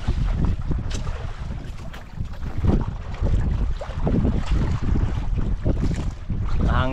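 Wind gusts across the open sea beside a small fishing boat on a breezy, overcast day with modest waves, loud rumbling buffets on the microphone that rise and fall in uneven surges.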